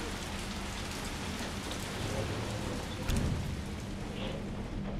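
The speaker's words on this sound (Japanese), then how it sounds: "砂嵐と雨です。" Steady, dense rain and a sandstorm fill the scene in the video game Resident Evil 3, a continuous loud wash with a brief heavier rumble partway through.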